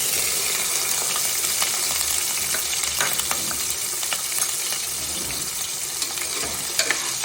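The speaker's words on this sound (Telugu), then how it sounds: "సో ముక్కలు వేసి కొంచెం షాలో ఫ్రై చేద్దాం" Paneer cubes shallow frying in oil for a dhaba-style paneer mutter curry: a constant bright sizzle with scattered crackles and the occasional stirring scrape, close and even throughout, with no one speaking.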